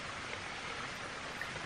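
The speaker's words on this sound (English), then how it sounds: "It is still raining" Steady rain hissing on surfaces in the Scottish Highlands, beside a waterfall, a soft continuous patter with no voices, fairly faint and even.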